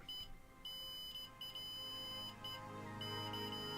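A Siglent SDM3045X bench multimeter gives its continuity beep: a high, thin electronic tone sounding in several short on-off bursts and then holding steady, faint against a quiet room.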